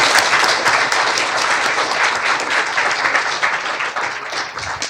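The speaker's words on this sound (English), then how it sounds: "Please give them a round of applause." An audience applauds at the close of an MIT panel event on brain and cognitive sciences, a dense, steady wash of many hands clapping that holds fairly loud throughout.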